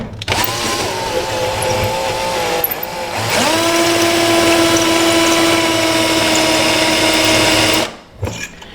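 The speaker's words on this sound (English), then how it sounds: "And then we just take our drill" Hand drill with a hole saw cutting a control arm mount on a K24 prototype racer, a loud, close whine that shifts pitch as the saw bites and then holds a steady grinding tone before stopping abruptly.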